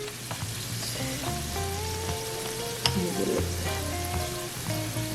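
Vegetables sizzle steadily as they fry in butter with Cajun seasoning added, a continuous close crackle with a few stirring scrapes and no talking.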